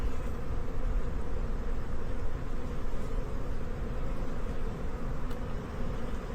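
Honey bees from a queenless colony drone in a steady, dense buzz around a hive frame, close and continuous with no talk over it.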